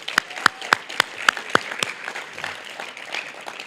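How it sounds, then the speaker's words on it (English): Applause at an athletics end-of-year banquet, opening with a few sharp, evenly spaced claps close by before thinning into softer scattered clapping from the room. "One more round of applause for the legendary Terry Kurtz."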